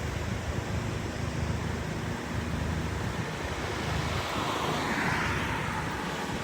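A police helicopter flying overhead during a manhunt search in Chester County, Pennsylvania, a continuous loud broadband roar and whoosh with no clear rotor chop, swelling slightly toward the end.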